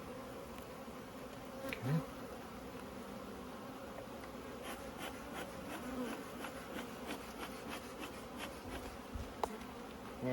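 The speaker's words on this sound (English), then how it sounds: "we got lots of bees around the edge" Honeybees swarm around the edge of a large open hive, with a continuous close buzzing hum and individual bees passing near. A brief word is spoken over the buzz.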